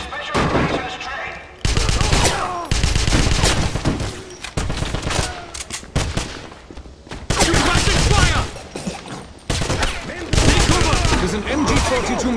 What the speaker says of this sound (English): Machine gun blocking our path.